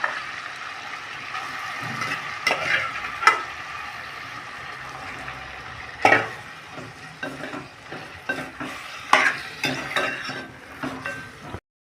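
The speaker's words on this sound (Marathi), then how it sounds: "बोनलेस चिकन 10 ते 12 मिनटं बटरमध्ये व्यवस्थित असे परतून घ्यायचे आपण." Boneless chicken coated in ginger-garlic paste fries in butter in a pan, giving a continuous soft sizzle under repeated clinking, scraping stirs from a spoon against the pan.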